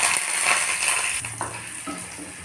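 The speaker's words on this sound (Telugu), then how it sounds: "తాలింపు వేగిందండి" Curry leaves crackle in hot tempering oil with fried lentils and dried red chilies for a tamarind chutney, a brief close, even sizzle with a few faint clinks of a pan.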